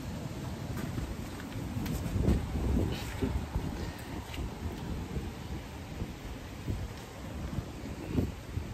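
Steady rain falling on St Mary's Island during a fishing trip, a dense broadband patter with gusts of wind buffeting the microphone, continuous throughout with a few louder swells.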